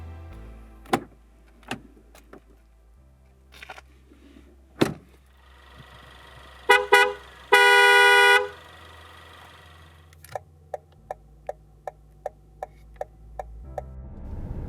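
Assorted sounds from a 2019 Lincoln MKC: sharp clicks and ticks, a loud steady electronic chime or horn tone, then a regular series of ticking clicks like an indicator, over a low hum with no talking.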